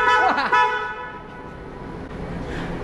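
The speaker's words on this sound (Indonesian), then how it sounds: "Klakson udah kepasang, sekarang kita coba bunyinya." A newly installed horn on a Suzuki Jimny honks loudly in a short blast up close, its harmonic tone sustained and then fading into a lingering ringing.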